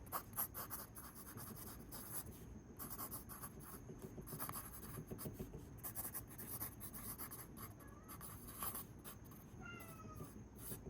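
Pencil scratches on paper in quick, close strokes, repeated throughout, with a cat meowing a few times in the background.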